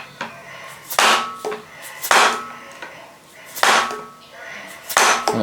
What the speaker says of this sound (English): when I go on the end of it with the hammer, which is going to be a soft face one, it should pop that gear loose